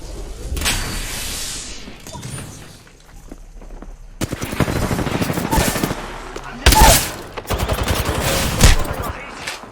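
Gunfire in the video game Apex Legends, several bursts of rapid shots from near and farther off, some loud and close, mixed with game effects and occasional talk.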